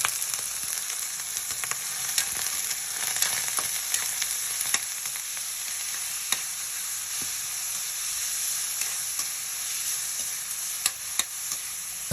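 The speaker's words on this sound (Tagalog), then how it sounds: "Nilagay natin yung sahog natin chicken." Chicken frying in a pan of oil, a steady close hiss and crackle with occasional stirring clicks, constant in level and with no talk.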